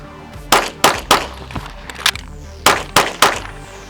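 FN 509 Tactical pistol fired in a reload drill at 7 yards: about nine sharp, loud shots in quick pairs and clusters, with a brief pause between strings and no talking.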